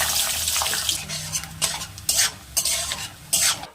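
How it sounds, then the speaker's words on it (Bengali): Peanuts sizzle in a hot pan while a utensil stirs and scrapes, with a few sharp metallic strokes against the pan. "এবার বাদামগুলো প্রথমে ভেজে তুলে দিচ্ছি"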